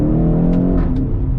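A 2016 BMW X5M accelerates hard, its engine droning loud and steady with brief dips as quick gear changes snap through, heard up close from inside the cabin.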